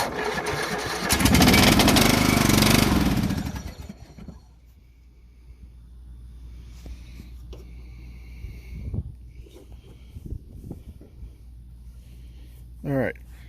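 A Poulan 38-inch riding lawn mower's small engine roars loudly for a few seconds, then drops to a rough idle with clunks and mechanical rattles, and a short squeal near the end.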